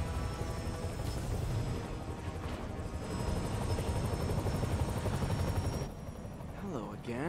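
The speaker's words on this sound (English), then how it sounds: "I beat the chopper up there" Helicopter rotor in the Marvel's Spider-Man PC video game, a loud steady thumping drone that holds for about six seconds, then drops in level as a voice speaks briefly near the end.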